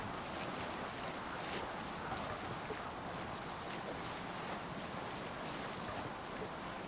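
A Viking longship under sail in Assassin's Creed Valhalla, with a continuous wash of waves against the hull and gusting wind blending into a steady, even roar with no distinct breaks.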